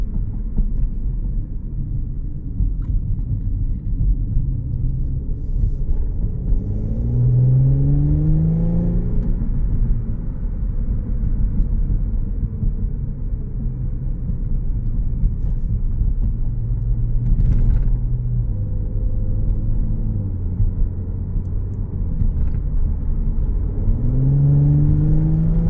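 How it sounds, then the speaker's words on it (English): Audi S5 Sportback Premium Plus Quattro engine on the road, a steady low rumble with a few rising rev sweeps as it accelerates, continuous and fairly close, no talk. "Car sounds really good."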